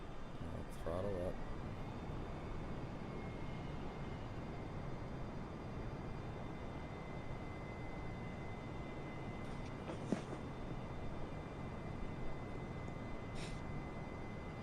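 Aircraft engine in Microsoft Flight Simulator holds a steady, moderate drone with a faint high whine above it, with a few brief clicks along the way and no clear rise in pitch.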